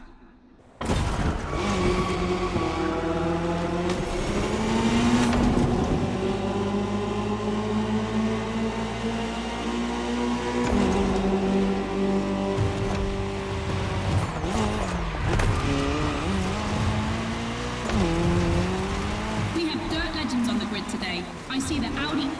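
Rally cars racing in The Crew Motorfest, led by the Audi S1 EKS RX Quattro, with loud continuous engine roar, shifting revs and tire noise throughout, under a steady stream of commentator talk.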